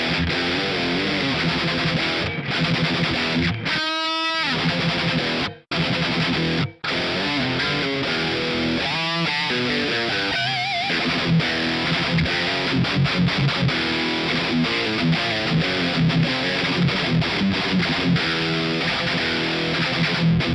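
Heavily distorted electric guitar through a Mooer GE200 amp modeler plays sustained chords and riffs with a dense, saturated tone, broken by a few abrupt short silences.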